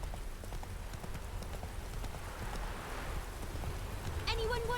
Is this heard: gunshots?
no